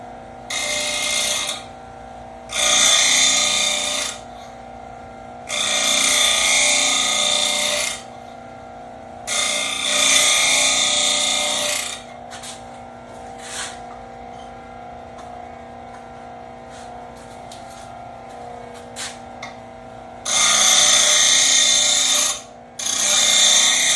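A power grinder sharpens a blade in several roughly two-second bursts of loud, even grinding, each separated by quieter pauses with faint handling sounds.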